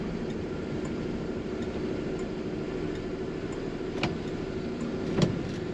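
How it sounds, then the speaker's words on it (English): A green 1966 Ford F-100 longbox pickup with a three-on-the-tree manual transmission driving, heard from inside the cab as a steady low engine and road rumble with a couple of brief clicks and knocks. "Today we're driving a 1966 Ford F-100 pickup truck."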